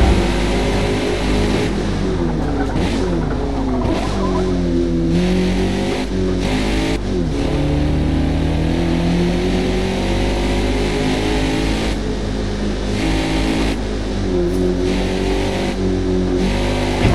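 A Mazda race car in the Forza Motosport video game at the Laguna Seca circuit, its engine revving loud and continuously, with pitch rising and falling through repeated gear shifts and acceleration.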